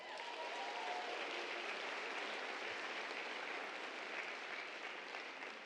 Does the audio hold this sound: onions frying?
no